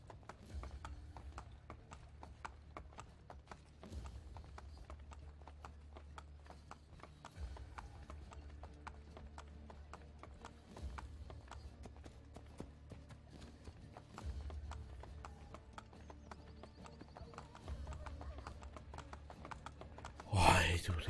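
Horse hooves clip-clop steadily in Assassin's Creed Brotherhood gameplay, a continuous rhythmic trot running throughout at moderate level with light clicking over it and a sharp louder burst at the very end.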